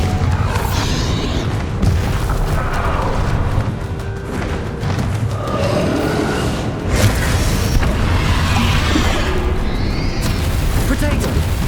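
Bombarda spell explosions in Hogwarts Legacy combat give heavy, rumbling booms that blend into a dense, continuous low roar. Shouted voices are heard over the blasts.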